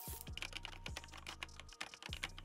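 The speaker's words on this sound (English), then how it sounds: "HyperX Alloy Origins Aqua Mechanical Gaming Keyboard" Typing on a HyperX Alloy Origins Aqua mechanical gaming keyboard: crisp, fast clacking keystrokes up close, with several heavier thumps mixed into a busy, continuous run and no speech.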